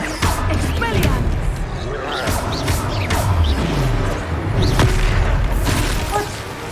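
Expelliarmus spell cast in Hogwarts Legacy combat, with repeated booming blasts, crashes and whooshing magic effects, and voices speaking amid the action.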